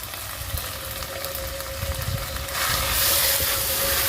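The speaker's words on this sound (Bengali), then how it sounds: "এবার মশলাটা খুব ভালো করে কষিয়ে নেব।" Spice masala of cumin paste and chili powder, cooked with onion, ginger and garlic, fries in oil with a continuous close sizzle and hiss that swells louder partway through, with no talking.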